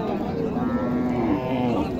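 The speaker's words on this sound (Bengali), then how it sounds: "এইখানে একটি ষাঁড় বাছুর দেখেন, শাহিওয়াল ষাঁড়।" A Sahiwal bull calf at a rural cattle market moos in one long, loud, drawn-out call close by.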